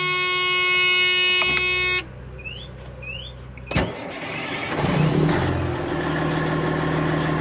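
A classic XL truck sits with a steady electronic buzzer tone before its engine cranks and catches with a sharp burst, then settles into a close, even diesel-like idle rumble.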